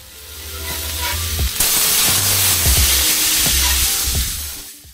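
Parmesan-crusted steaks sizzling loudly on a Blackstone griddle, a dense hiss that flares up sharply as the meat is flipped, with scraping spatula knocks and taps, then fades toward the end.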